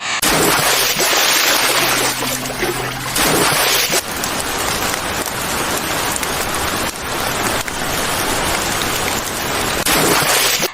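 Steady, heavy rain pours down across the whole stretch, a dense hiss of drops drumming on surfaces, close and loud with no voices.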